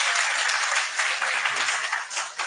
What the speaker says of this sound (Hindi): एक बार ताली बजा दो रोयल के लिए।